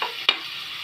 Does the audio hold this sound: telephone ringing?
no